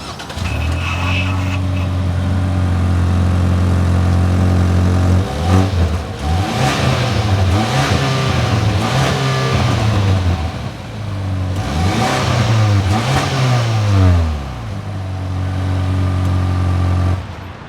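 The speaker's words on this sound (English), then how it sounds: "let's take a listen to this sporty truck exhaust." Sporty exhaust of a 2025 Ford Maverick Lobo AWD pickup truck, revving hard in repeated loud rising-and-falling bursts over a steady idle, close and alone without talk.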